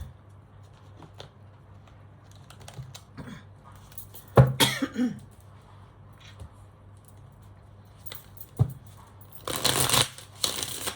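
Tarot cards are handled and shuffled close up. There are soft rustles and a sharp flick, then a dense riffling burst at the end over a low background hum.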